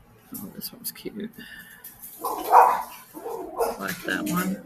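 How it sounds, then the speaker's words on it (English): A small dog barks and yips excitedly at someone at the door, several rough barks clustered midway and toward the end, fairly close, mixed with someone talking. "And excuse my little dog."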